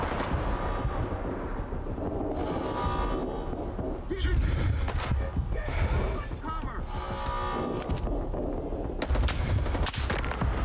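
Repeated gunshots and heavy bursts of fire in S.T.A.L.K.E.R. 2: Heart of Chornobyl, loud cracks scattered through the stretch over a low background hum, with a player talking intermittently.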